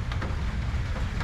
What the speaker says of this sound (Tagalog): Napakalamig kasi nga nag-uulan-ulan.